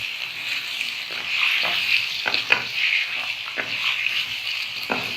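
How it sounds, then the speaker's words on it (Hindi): Potatoes frying with mutton in a pan for aloo gosht, a steady close-up sizzle with intermittent stirring scrapes and soft clicks, and no voices. "गोश्त के साथ हम थोड़ी देर आलू फ्राई करेंगे।"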